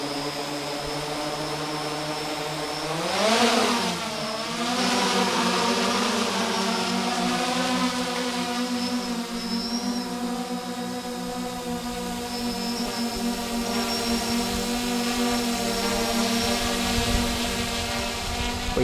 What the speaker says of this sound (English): we'll just see how it flies right now with the auto tune